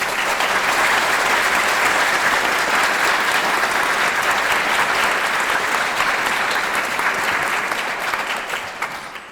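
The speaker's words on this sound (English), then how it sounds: "Big clap for them, please." Loud, sustained applause from an audience at an evening arts event in a law school, steady clapping for about nine seconds before thinning slightly at the end, with no talking over it.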